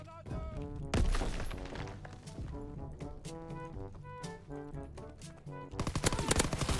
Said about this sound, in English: Dude, the shotgun.